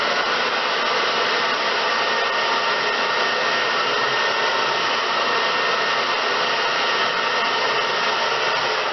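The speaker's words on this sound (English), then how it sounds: "I'm going to take it, I'm going to blow dry it on" A hair dryer blows steadily and loudly at close range while a curly hair weave is blow-dried, an unbroken whoosh lasting the whole stretch with no talking.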